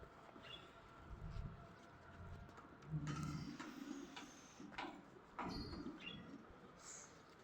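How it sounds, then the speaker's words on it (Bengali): Expensive pigeons cooing in a loft, soft low coos that come and go with scattered shuffling and clicks, faint and fairly close, with no one talking. "এগুলো অনেক দামি কবুতর"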